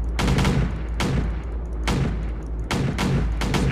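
Artillery and mortar fire in the mech defense video game Home Wars - Mech Defense, from 88s and 81 millimeter guns: a steady run of loud, booming shots about once a second over a low continuous rumble.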